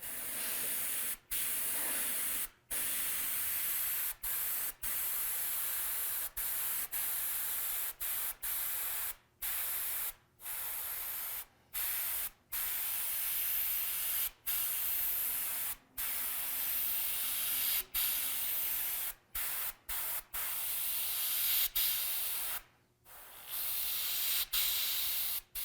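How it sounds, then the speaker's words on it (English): A spray gun lays down Createx candy gold paint in long steady hissing bursts, broken by many short pauses between passes, close and fairly quiet with no voices. "when I spray the gold"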